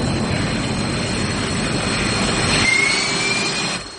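An all-black covert military plane in Rambo: First Blood Part II, its engine a loud continuous roaring drone with a rising whine that cuts off abruptly near the end.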